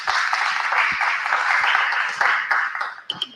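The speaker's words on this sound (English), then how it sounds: "A big round of applause, please." An audience at a hematology medical conference gives a burst of applause, dense and steady clapping filling the hall before it thins out near the end.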